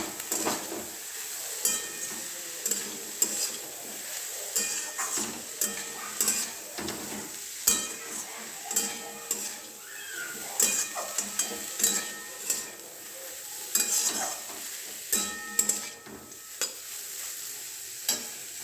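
Boneless chicken pieces frying in a pan for chicken soup, a steady close sizzle broken by frequent scraping and stirring clatter from a utensil against the pan.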